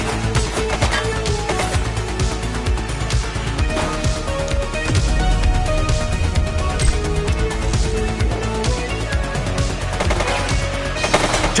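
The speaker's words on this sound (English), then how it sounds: "He's shooting!" Sustained automatic gunfire in a police video game, The Precinct, loud and dense bursts rattling continuously throughout with no pauses.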